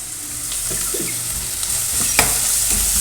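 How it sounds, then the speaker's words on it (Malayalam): Tomatoes go into a pan of spiced masala for an aila (mackerel) curry and are sautéed, a steady close sizzle with scraping stirs and a brief clink, and no talk. "ഇതിലേക്ക് കുറച്ച് തക്കാളി ഇട്ട് കൊടുക്കാം."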